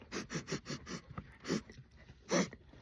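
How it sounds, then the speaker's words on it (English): Short nasal sniffs in quick bursts, a run of about five rapid small inhales followed by a few spaced single sniffs, close and fairly quiet with no talk. "can you hear me sniffing?"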